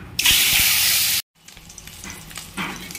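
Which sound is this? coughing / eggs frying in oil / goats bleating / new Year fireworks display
eggs frying in oil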